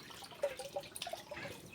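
Running water drips and trickles faintly from a tap in a home, a quick, irregular run of small splashes close by with no talking.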